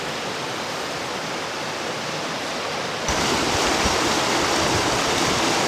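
Steady broadband rushing of a river flowing, growing suddenly louder partway through and continuing unbroken, in Benguet, Philippines.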